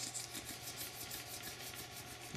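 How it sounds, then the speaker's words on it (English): A scratch is polished out of a gun's surface with quick, even rubbing strokes in a steady back-and-forth rhythm, close and fairly soft, with no talking. "I'll polish this side a little too while I'm at it."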